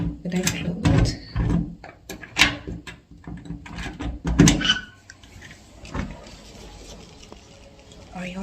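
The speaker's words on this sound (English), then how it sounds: "Let's open the door." A cabin door is handled and pushed open with knocks, clunks and rattles, loud and close, while a person talks; the room then settles into quieter background with a few faint bumps.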